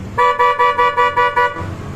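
A car horn honks in a quick series of about six short, evenly spaced blasts, loud and close, then stops.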